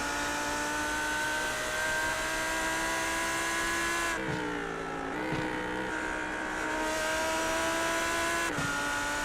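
A GT3 race car in a sim racing game at Zolder drones steadily at high revs, its engine note sliding through gear changes and rising again as it pulls onto the straight, loud and continuous.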